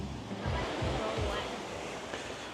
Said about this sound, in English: We're in the what's this? The South Pacific Sea.